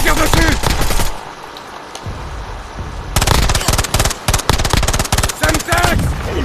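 Rapid automatic gunfire in the Warzone video game, loud bursts of shots in two stretches separated by a quieter pause, with someone talking in between.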